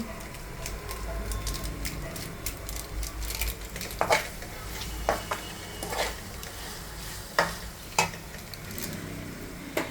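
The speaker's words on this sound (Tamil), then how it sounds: "அந்த நூடுல்ஸ், ப்ளைன் நூடுல்ஸ், அதை வந்து நம்ம அது கூட போட்டு கிளறோம்" Boiled plain noodles stirred through a sizzling pan mixture, with soft steady frying hiss and a series of clinks and scrapes from the utensil at irregular intervals, close and fairly quiet.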